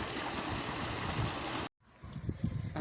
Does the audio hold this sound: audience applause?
no